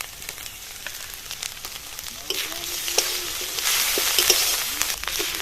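Grated ginger and garlic frying in hot oil with grated onion, a close, steady sizzle that swells louder after the first couple of seconds, with occasional spoon scrapes and clicks from stirring.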